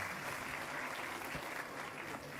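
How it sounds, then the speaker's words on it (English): An auditorium audience full of young students applauds, a steady dense wash of clapping heard from a distance at moderate volume. "Let's have a big round of applause, everybody."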